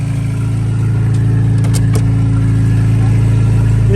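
A 1967 Datsun 1600 Roadster engine runs steadily at idle, a close, loud, even mechanical hum with a low throb and no voices.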